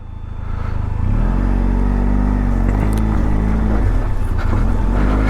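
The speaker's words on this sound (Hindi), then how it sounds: "पहले तो गड्ढे में उतारना है नीचे मेरे को बाइक" A close, loud motorcycle engine rumbles as the bike is brought down into a rocky pit on the monsoon route from Kaza to Chandrataal in Spiti. The engine rises within the first second, then holds a heavy idle with small revs.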